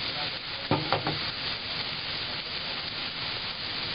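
A pork and preserved radish omelette fries in a pan with a steady, close sizzle and hiss, and a brief scrape or stir near the start.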